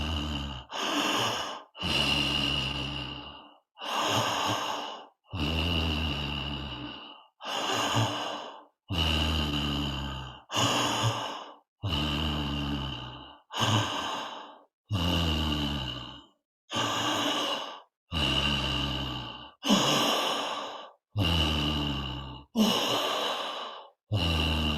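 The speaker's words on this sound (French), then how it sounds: "je fais un léger resserrement au niveau de la gorge et des cordes vocales, et ça fait le son en inspirant et en expirant." Slow, deliberate breathing through a slightly constricted throat produces a raspy, ocean-like rush on each inhale and exhale, with about fifteen long breaths in a steady rhythm. The breaths are close, loud and unaccompanied by talk.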